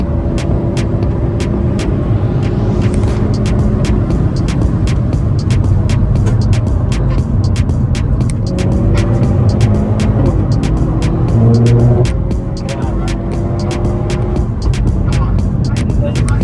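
A stock 2021 Hyundai Veloster N drives along, its engine droning loudly and steadily with rising and falling revs while it accelerates and shifts, accompanied by road and wind roar and people talking inside the cabin.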